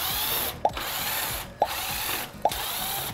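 A power screwdriver unscrews screws from a Corsair One i160 mini PC case, whirring steadily with three short pauses and sharp clicks spaced about a second apart, up close and without talking.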